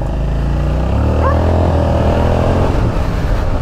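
Suzuki SV motorcycle ridden with a passenger aboard, engine note rising and falling as it accelerates, loud and close with wind rush underneath.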